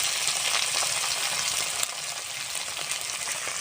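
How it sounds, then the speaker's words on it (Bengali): Spice paste with chili powder, garam masala, turmeric, salt and grated tomato frying in a pan, a dense close sizzle with stirring scrapes, steady throughout and alone. "সুন্দরভাবে কষে নেব মশলাটা"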